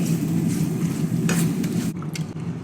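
Coriander powder and spices frying in a pan for a fish curry with raw tamarind and mango, a loud steady sizzle with stirring scrapes that stops abruptly toward the end, leaving faint clinks.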